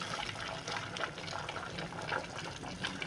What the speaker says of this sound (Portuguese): um complemento de água só